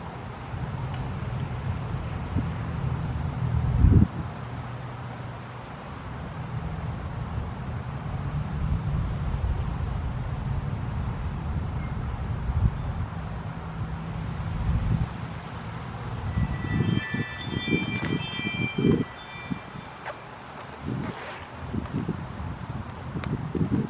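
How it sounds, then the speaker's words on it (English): Wind gusts through an open cemetery, a low, steady rumble against the microphone that swells and eases, with a brief chirping near the end. "It's a little bit windy."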